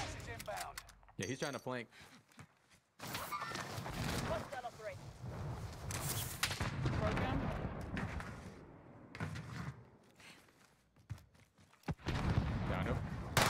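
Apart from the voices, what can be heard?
DP-27 machine gun firing in the video game Warzone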